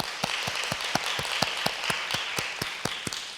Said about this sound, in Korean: 우리 박수 한번 격려하겠어요?